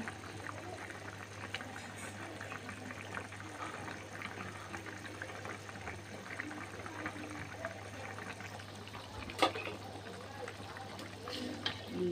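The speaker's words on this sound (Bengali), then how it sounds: "ঝোল ফুটে গেলে মাছ দিয়ে দিয়েছি।" Broth with bhetki fish simmering in a pot, a faint steady bubbling with a low hum underneath and an occasional clink near the end.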